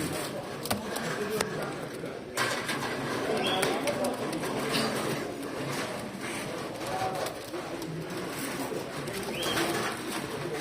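Pigeons coo softly in the background, low repeated calls mixed with rustling and general ambient noise.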